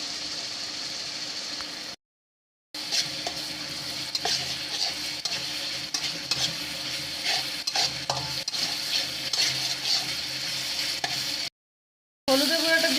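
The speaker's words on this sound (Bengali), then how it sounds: "হলুদের গুঁড়াটা দিয়ে কিছুক্ষণ নেড়ে চেড়ে নিয়েছি" Ginger and garlic with turmeric powder sizzle in a pan while a utensil stirs and scrapes, a steady close frying hiss with clinks and scrapes, briefly cut to silence twice.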